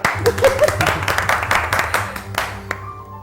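A studio audience claps on cue during a cricket-themed television quiz show, a loud burst of hand clapping that thins out and fades near the end, with brief voices in the background.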